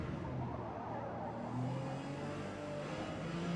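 A Porsche P-class race car in Forza Motorsport, driving Grand Oak Raceway's National Circuit, holds a loud, steady engine roar with a slight rise in revs, heard alone and close.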